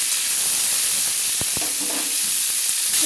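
Cauliflower, carrot and other vegetables fry in oil, giving a steady broadband sizzle throughout with a few brief clicks of stirring in the middle; no one speaks.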